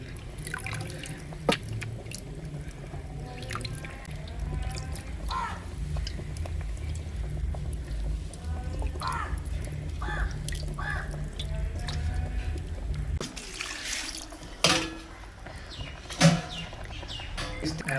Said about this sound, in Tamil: முதல்ல ஒரு தண்ணியில் கழுவியாச்சு